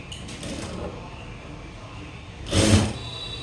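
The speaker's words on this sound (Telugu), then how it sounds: "దీన్ని ఓవర్లాక్ చేసేసుకోవడమే" Overlock sewing machine stitching the seam of a small blouse, a soft mechanical whir running under the room tone with a short, louder burst near the end.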